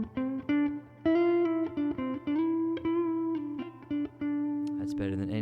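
Boss GM-800 guitar synth tones play through a Princeton Reverb amp with light reverb, a short phrase of clear sustained pitched notes with sharp attacks, moderately quiet and heard alone.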